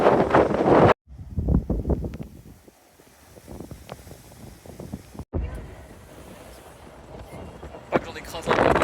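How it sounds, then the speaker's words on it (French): Strong wind buffets the microphone outdoors on the coast at Airlie Beach, Australia, a loud rumbling gusty roar that rises and falls, heaviest at the start and end, with a person talking under it. "Il y a du vent, on se pèle le cul là."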